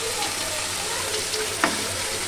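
A small splash of water hits a hot pan of sizzling Bengali small-fish chachchari, bringing a loud dense hiss with a brief burst near the end, close and continuous.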